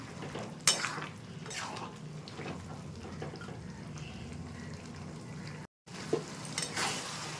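Chickpea and potato curry stirred in a pan, soft scraping and clinking of a spoon against the metal over a low bubbling simmer, with a few sharper knocks and a brief dropout.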